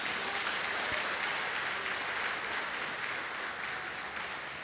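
A church congregation claps in praise during a worship service, with steady, dense applause from many hands filling the hall for several seconds.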